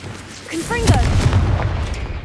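A Confringo fire-blast spell bursts in Hogwarts Legacy, a loud booming detonation followed by sustained rumbling fire and low crackle over about two seconds, with a shouted voice at the start.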